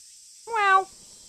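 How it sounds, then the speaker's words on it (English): A cat character in a video game gives a single clear, fairly loud meow, rising and falling over about half a second, set against a steady faint background hiss. "we need to talk to this other cat that also goes meow"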